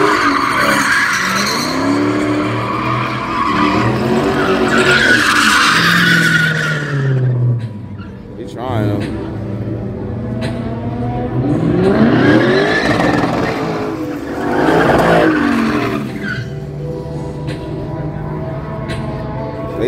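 A car drifts in the pit at a legal LA street side show, with loud sustained tire skidding and squeal rising and falling in long sweeps over engine roar, with faint voices in the background.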